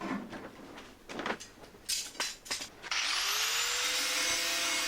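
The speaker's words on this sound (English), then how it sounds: "Clean up the edges now with the flap wheel, so I have nice clean metal to weld to." A flap wheel on a grinder cleans rusty metal edges on the inner wheel arch of a Talbot Express camper van, first scraping rough bursts, then a loud steady high whine spinning up and holding.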